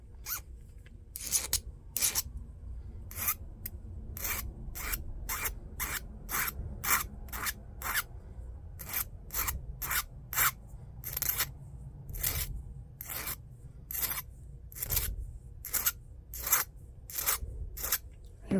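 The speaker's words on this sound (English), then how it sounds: "then flatten out and round off that cut edge" A cut plastic edge on a 3D-printed pylon part for a water balloon drop mechanism is filed and rounded off, with quick rasping strokes in an irregular rhythm, close and fairly loud, and no talk.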